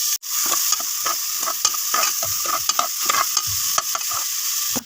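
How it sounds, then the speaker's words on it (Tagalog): Garlic, onion and tomato sautéing in a pan, with a steady loud sizzle broken by repeated scraping stirs of a spoon throughout, no voices. "Pagkatapos natin igisa yung mga lamas"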